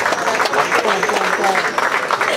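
Applause from a big band concert audience follows a baritone saxophone solo, a dense, steady patter of clapping sustained throughout at moderate loudness, with voices mixed in.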